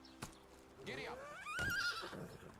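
In the medieval village-building game Medieval Dynasty, a horse neighs with a rising then falling whinny while hooves clip-clop beneath it, brief and close.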